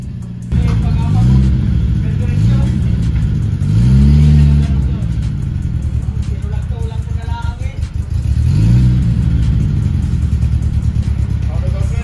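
A vehicle engine revs repeatedly through a newly fitted 24-inch muffler, loud nearby rising and falling throaty bursts with idle between them, and a person talks over parts of it.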